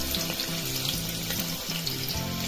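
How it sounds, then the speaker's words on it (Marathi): Onion frying in hot oil inside a pressure cooker, a continuous bubbling sizzle heard close, with a faint background hum underneath throughout. "तेल गरम झालेलं आहे त्यामध्ये कांदा घालून घ्यायचा आहे"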